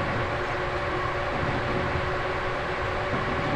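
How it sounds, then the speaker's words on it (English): Train running in Transport Fever, a steady low rumble with faint tonal hum, continuous and even throughout, heard moderately loud and at some distance with no talking. "I do hear another train, I think."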